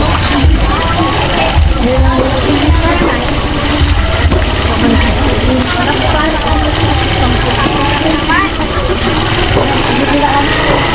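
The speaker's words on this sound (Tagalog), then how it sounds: "Pasok ko kayo dito sa may palengke. habang nakamotor." A motorcycle rides into a busy Philippine public market, its engine a loud steady hum and rattle throughout, mixed with crowd voices and market bustle.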